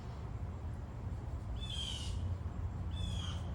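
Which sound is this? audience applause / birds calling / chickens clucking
birds calling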